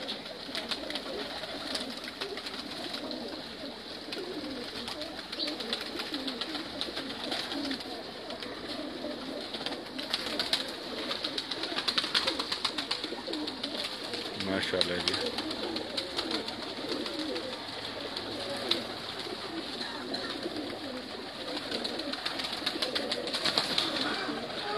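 Breeder pigeons in a loft cooing steadily over a constant hiss of background noise, with soft repeated low calls and occasional wing flutters throughout.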